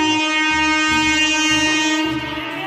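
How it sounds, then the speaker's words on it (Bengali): A passenger train pulling into a railway station, sounding a long sustained horn blast over the low rumble and clatter of the wagons, loud and close, with no voices. "এখানে এসে গেছি আর ট্রেন ঢুকবে দাঁড়িয়ে আছে"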